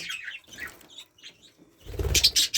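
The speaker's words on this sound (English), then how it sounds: "I've got zebra finches, budgies, and I think a lot of canaries." Caged zebra finches, budgies and canaries in an aviary: scattered short chirps and tweets at moderate distance, then a louder burst of wing flapping and busy calls near the end.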